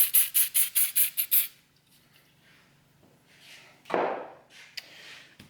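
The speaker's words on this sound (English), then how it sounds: "Again, spraying it from distance." A series of sharp, rhythmic aerosol bursts of glue accelerator, about seven quick sprays in a row from a distance onto a cherry woodturning with lapis lazuli inlay, followed by quieter rustling and a brief hiss near the end.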